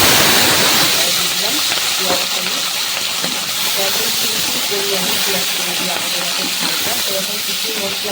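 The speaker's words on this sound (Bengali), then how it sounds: "তেলের মধ্যে একটু সামান্য হলুদ দেব মানে পেঁয়াজ কলিগুলো দিলেই ছিটকাবে দিলাম" Onion pieces dropped into hot oil with black cumin seeds and a little turmeric hiss and sizzle steadily and loudly up close, a constant spattering wash while someone talks over it.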